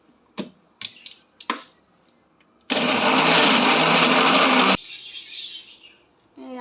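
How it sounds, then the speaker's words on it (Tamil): A kitchen blender grinds juice ingredients without water, bursting into a loud, steady whirring roar for about two seconds after a few sharp knocks, then dropping to a softer hiss before restarting briefly at the end. "வாட்ரு விடாமல் ஜூஸ் அரைக்க போகிறாங்க."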